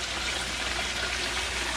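Water trickles and splashes steadily in a home aquarium system with a 150 gallon tank and a sump pump, a continuous close, broadband wash of flowing water with no talk.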